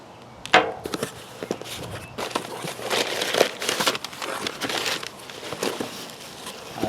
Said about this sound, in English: I'm just opening all these boxes real quick.